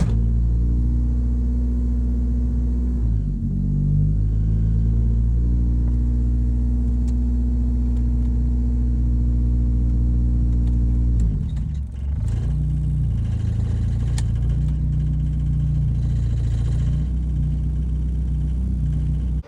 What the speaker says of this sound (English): it idles like, starts high idling in park and neutral